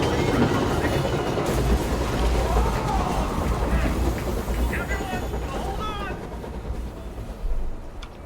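Train riding on rails in the video game Control, the Eagle Limited bound for Chicago: a steady low rumble and rolling rail noise continues throughout, with a voice talking over it.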